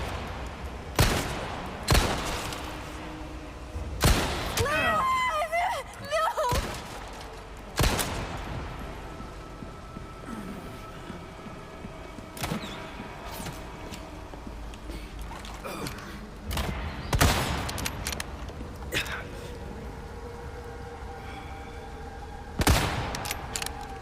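Repeated gunshots fired at an enemy in the Resident Evil 4 remake, sharp separate cracks spaced every second or two over game ambience, with a short burst of busier action partway through.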